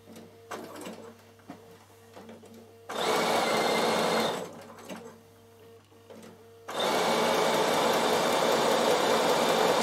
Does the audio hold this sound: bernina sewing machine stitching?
yes